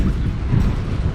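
Wind buffets the microphone on a walk along a roadside, a steady low rumbling roar that fills the short stretch without letting up.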